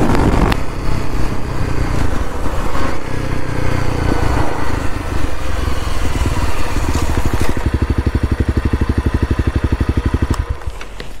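Honda CRF250L dual sport motorcycle riding along, its engine droning steadily and loud with wind rush, then settling into a rapid, even pulsing idle near the end before fading.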